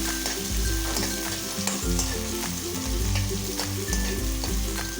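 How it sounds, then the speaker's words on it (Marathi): Chopped onion frying in a pan of oil after chilies have crackled, for Schezwan fried rice made from leftover rice; a steady close sizzle with repeated scraping stir strokes throughout, no talking. "मिरची तडतडून झाल्यानंतर आपल्याला यामध्ये कापून घेतलेला कांदा भाजून घ्यायचा आहे"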